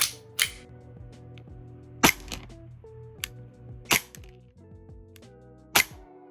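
A custom Hi-Capa airsoft pistol with a red splatter Cerakote finish is fired outdoors, giving about five sharp, separate snaps at irregular intervals over a steady bed of background music.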